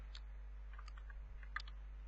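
Faint, sparse clicks of typing on a computer keyboard come in a few scattered taps over a low steady hum.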